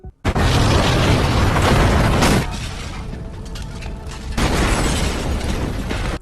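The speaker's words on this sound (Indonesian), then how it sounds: "terdengarlah bunyi ledakan boom" A sudden loud explosion boom in a Korean drama scene, with a sharp onset and dense broadband roar that drops to a lower rumble and then swells again, booming close and alone without speech.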